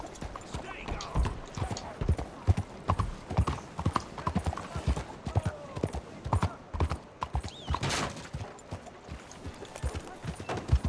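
Horse hooves clip-clop in a steady, quick rhythm in the Red Dead Redemption 2 video game, a busy close gallop with faint whinnies and game sounds mixed in.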